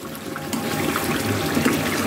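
Hot boiled water poured into a pot of chicken roast cooking in spices, a short steady splashing rush of liquid heard close and alone.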